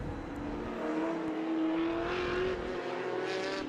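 Touring cars race at Winton Motor Raceway in a Victorian Super Tin Tops event, their engines a steady, moderately distant drone whose pitch climbs gradually, with no talk over it.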